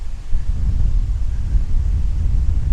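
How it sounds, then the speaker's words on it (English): Steady, heavy late-August wind roar in Plymouth, Massachusetts, buffeting the microphone, a continuous low rumble with gusty swells throughout, no voices. "Very windy."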